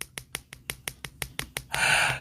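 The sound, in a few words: tapping on a screen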